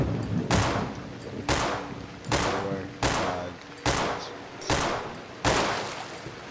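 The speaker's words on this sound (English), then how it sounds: "Kill this thing with our pistols." Pistol shots in the horror video game Cry of Fear ring out one at a time at a slow, steady pace, seven loud cracks about a second apart, each trailing off in echo.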